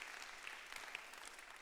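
An audience at a church sermon applauds in a dense, even patter of clapping, faint and distant, with no voices on top.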